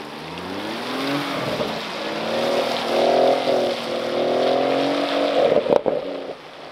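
A BMW M140i with a limited slip differential drifts around a wet skid pan, its engine droning and rising as the throttle is held sideways, with a brief clatter near the end.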